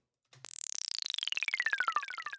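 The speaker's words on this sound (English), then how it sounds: "I've used a little sweep" After a short thump, a sweep effect for a dance track transition glides downward in pitch with rapid fluttering pulses, fairly quiet and alone.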